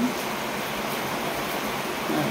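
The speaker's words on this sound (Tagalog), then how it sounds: "Tingnan mo, lakas ng ulan." Heavy rain pours down in a dense, steady hiss that fills the whole moment, loud and unbroken, with no voices over it.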